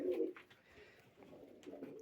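Pigeons kept by a fancier coo softly nearby, with a few low, throaty calls spread over a brief moment against a quiet background.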